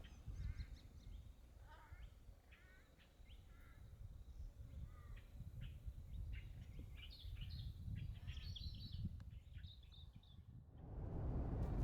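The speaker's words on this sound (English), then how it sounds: "a pair of brilliantly coloured ringneck parrots come down to drink" A pair of ringneck parrots, resembling mallee ringnecks, call at a scarce waterhole in inland Australia, giving repeated sharp chattering calls at moderate distance over a low rumbling background.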